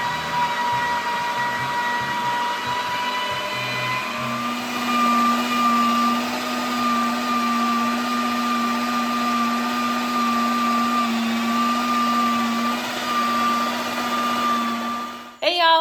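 Electric grinder grinding 4.5 pounds of beef fat for tallow, giving a steady loud motor whine that shifts pitch partway through and runs unbroken before cutting off at the end.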